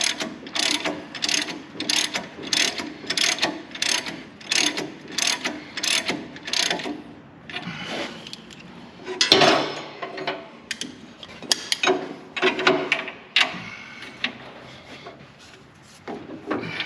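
Breaker bar ratchet tightening on field equipment, a rapid run of sharp clicking strokes in regular bursts, then slower, irregular clicks and metallic knocks, close and clear.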